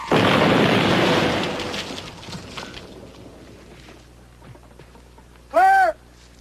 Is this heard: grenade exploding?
yes